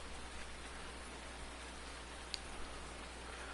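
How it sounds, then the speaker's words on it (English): Steady rain hisses in Farming Simulator 19, an even wash of drops falling across the whole stretch, with one faint click partway through and no talking. "since it's raining, our equipment is getting relatively clean."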